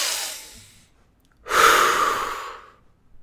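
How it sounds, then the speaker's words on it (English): Deep breathing during a relaxation exercise: a slow inhale, a short pause, then a longer, louder exhale, close and airy with no talking. "where you can literally hear the breathing"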